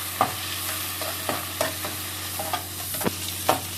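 Chopped onions fry in hot oil for a chicken gravy, a steady close sizzle broken by regular scraping knocks of a spoon stirring the pan.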